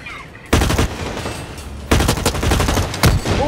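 Loud gunfire in the online shooter game Blacklight Retribution, coming in several dense bursts of rapid automatic shots separated by brief lulls, close and dominant with no talking over it.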